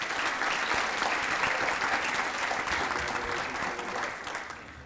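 A banquet crowd applauds teachers of the year at a school district awards event, with sustained clapping from many hands that holds steady and then gradually tapers off.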